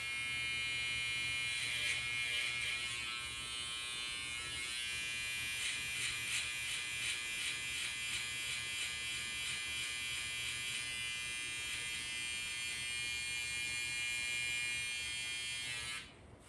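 Electric hair clippers trim a beard, giving a steady high buzz that is close and continuous and shifts slightly as the blades move through the hair, then cuts off abruptly at the end.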